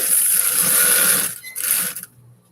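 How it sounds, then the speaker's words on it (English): A sewing machine back-stitches leather for a purse with a close, fast, high whirring run that falters briefly, restarts, then stops. "I'll do a slight back stitch just because we want to be precautious in the longevity of our stitches"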